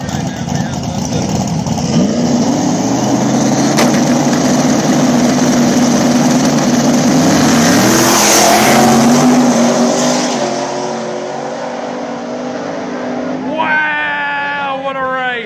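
A brand-new Camaro drag races at a small tire back-of-the-track event, engines roaring loud and close, swelling to a peak before fading, then a rising whine as the run ends.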